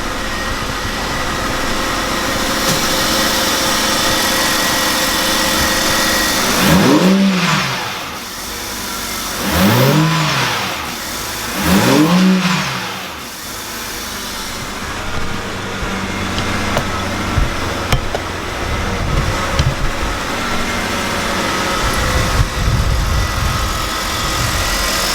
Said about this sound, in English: I'm gonna turn it on, let you guys hear how this sound with the new intake